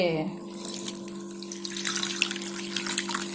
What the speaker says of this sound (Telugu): ఫస్ట్ వాటర్ పోసి కడిగేసుకుందాం